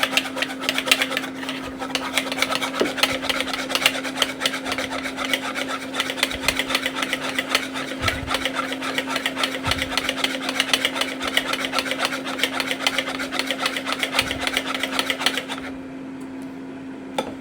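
A lumpy mixture for a roast chicken and potato meal is mixed until smooth, heard as a steady rubbing, scraping rasp that runs without a break for about fifteen seconds and then stops, with a low constant hum underneath.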